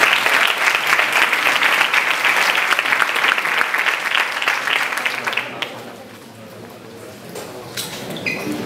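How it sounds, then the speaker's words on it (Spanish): A conference audience claps loudly and steadily for a speaker, then the applause thins out and fades into quieter room noise. "Así que de nuevo un fuerte aplauso para Clara, por favor."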